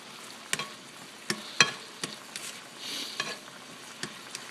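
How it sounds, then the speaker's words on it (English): Beef stroganoff vegetables with broth being stirred in a pan, with a simmering sizzle under a series of sharp utensil scrapes and clicks at irregular intervals, close by and without talk. "we're just going to give that a stir with the broth"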